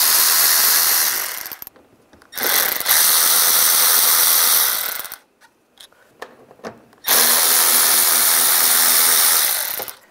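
A T20 socket on a power ratchet backs out bumper screws on a 1999-2005 Volkswagen Jetta: loud buzzing bursts of the tool, three runs separated by pauses and short clicks, with no talking.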